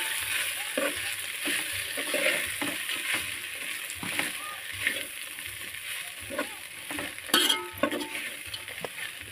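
Onion poha being flipped and fried in a pan, with a steady close sizzle broken by repeated scraping knocks from stirring, and no talking.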